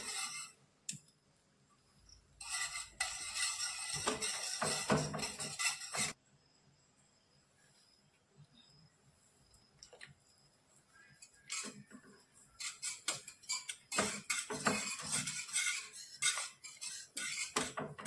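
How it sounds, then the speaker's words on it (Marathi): Gram flour being stirred by hand into pithla in a pan, a metal spoon clinking and scraping against the vessel in irregular bursts, quiet stretches between, close and fairly soft. "एका हाताने पीठ आणि दुसऱ्या हाताने आपल्याला हे हाटून घ्यायचंय"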